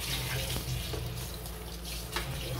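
Tap water runs steadily into a sink while dishes are being washed, a continuous close hiss with faint clinks of dishware and no talk over it.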